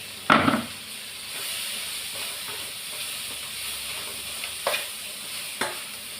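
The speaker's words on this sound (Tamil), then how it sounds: "கொஞ்சமாக குழம்பு மிளகாய் போட்டுக்கிறேன். மிக்ஸ் பண்ணி விட்டுக்கிடலாம்." Chili powder is stirred into frying broad bean curry, a soft steady sizzle and hiss with a few sharp scrapes of a spoon against the pan, fairly quiet and close.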